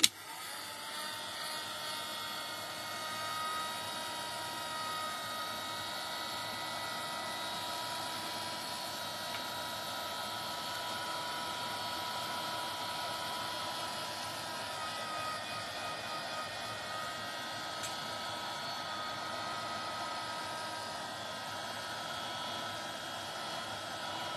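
A handheld heat tool blows steadily to dry paint on an art journal page, a continuous close whooshing roar with an even, unbroken drone throughout and no talking.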